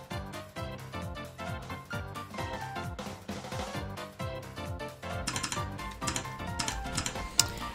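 Mechanical keyboard switches on a custom-built 61-key board clack in rapid, irregular bursts of typing-like presses, fairly close and continuous, with a few sharper louder clicks near the end.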